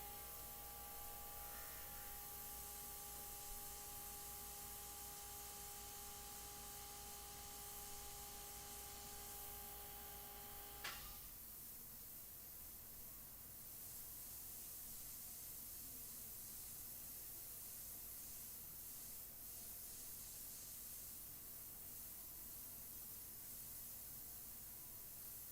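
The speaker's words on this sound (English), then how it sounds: "Having a precision airbrush like this" A precision airbrush sprays paint onto a fashion portrait, giving a faint, continuous soft hiss; a quiet tonal hum underneath cuts off midway while the airy spray continues alone.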